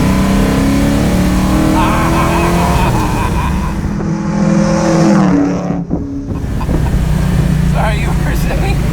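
A '69 Chevelle V8 rumbles and revs loudly nearby, its deep engine roar rising and falling under overlapping excited talk.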